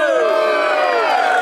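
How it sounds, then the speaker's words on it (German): A crowd at a medieval-style fair in Bad Iburg cheers and whoops in a brief, loud burst of massed voices. "Jubel!"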